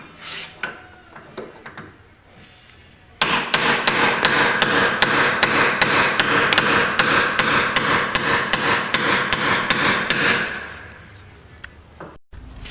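A hammer drives a roll pin through the yoke and pinion shaft of a Polaris RZR XP 900 front gear case, ringing out as a rapid, even series of about twenty sharp metallic strikes, close and loud, with a few taps before it.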